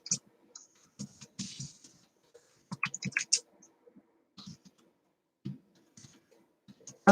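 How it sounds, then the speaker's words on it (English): Bursts of quick clicking keystrokes on a computer keyboard, close and fairly quiet, arriving in uneven clusters separated by short silent pauses. "I'm just going to type in the chat."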